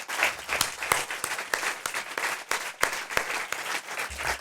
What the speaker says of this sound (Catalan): I per això demanaria un aplaudiment, el primer aplaudiment de molts, a l'Esteban, al Manuel i al Simón per escriure el llibre.